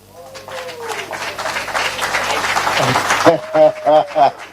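Hand clapping from an audience at an NPA board inauguration ceremony, dense and steady through the opening seconds, giving way to someone speaking loudly over a microphone.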